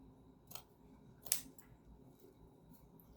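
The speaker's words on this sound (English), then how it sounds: "So we're just gonna grab a different pair of scissors here and keep on moving forward." Scissors snip a few times at close range during a candle-making craft session, two or three sharp quiet clicks spaced apart against a faint background.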